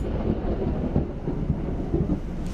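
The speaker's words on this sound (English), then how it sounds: "That was a big clap of thunder," A big clap of thunder in a storm rumbles loud and close, a sustained low roar filling the whole moment, heard from inside a camper with rain about.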